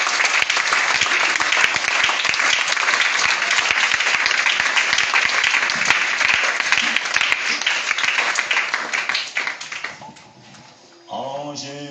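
A church congregation claps and cheers in sustained, dense applause that fills most of the span, tapering near the end as a few voices and singing emerge.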